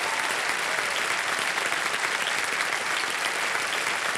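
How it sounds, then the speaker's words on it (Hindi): Studio audience on a televised Hindi quiz show breaks into sustained, dense applause, loud and even throughout with no pauses. "तालियां बज जाएं इनके लिए"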